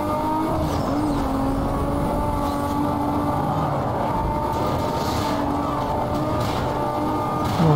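A race car in Need for Speed Most Wanted drives with a steady, loud engine drone and road roar that hold throughout with little change.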